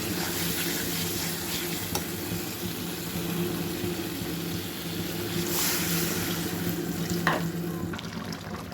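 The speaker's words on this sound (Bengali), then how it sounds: "এখানে টমেটো দিয়ে মাছ রান্না করতেছি" Fish simmering with tomato in a pan: a steady bubbling sizzle fills the whole stretch, with a few brief clinks and scrapes of a utensil over it, near and moderately loud, no talking.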